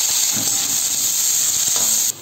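Steady bright hiss of chopped onion frying in hot oil, continuous and fairly loud, with a few faint knocks underneath before it drops off near the end.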